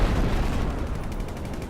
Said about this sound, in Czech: a teď vystřelím